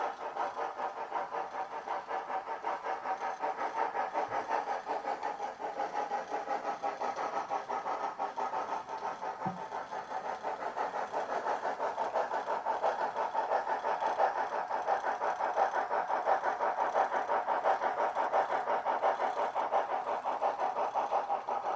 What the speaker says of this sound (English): So here the train is coming off the main line.